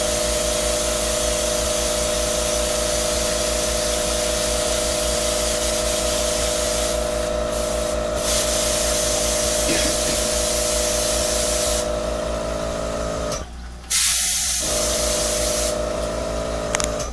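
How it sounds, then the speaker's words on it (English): An airbrush sprays a cake pop with a continuous close hiss that holds steady, with brief dips and one short pause near the end before the spray resumes. "now I'm going to take another one and airbrush it again on the safety zone"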